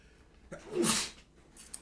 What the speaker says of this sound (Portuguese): Deixa eu espirrar.